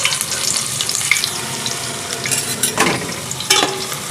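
Chopped onion with cumin fries in hot oil, a loud continuous sizzle close by, with a few scraping stirs of a spoon breaking through near the end.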